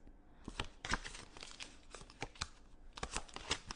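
Close, faint shuffling with crisp papery rustles and quick crinkling bursts that repeat irregularly throughout, with no voice over them.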